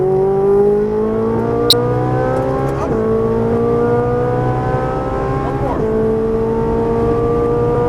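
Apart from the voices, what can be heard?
Ferrari 458 Italia accelerating on race track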